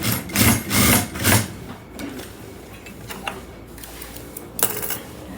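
Sewing machine lock-stitching a short side seam on a suit front and back panel, a few quick close whirring bursts of stitching followed by quieter handling clicks.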